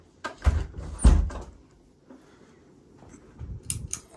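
A door to a bunk room is handled, with a couple of solid knocks and thumps early on, then softer rattling and faint creaks, heard close in a quiet indoor space.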